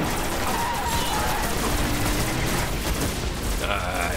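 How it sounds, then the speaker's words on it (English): Rapid gunfire and explosive blasts from the video game Destiny, with a rocket launcher firing amid a dense, loud, continuous barrage of combat effects. "I freaking suck with the rocket launcher"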